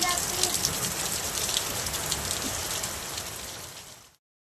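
Heavy rain pours down in a dense, steady hiss of drops on surfaces, close and constant, before cutting off abruptly near the end.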